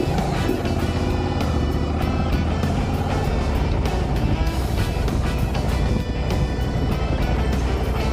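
Husqvarna Norden 901 Expedition adventure motorcycle on the move, with a loud continuous engine drone mixed with heavy wind rush across the whole stretch, no pauses.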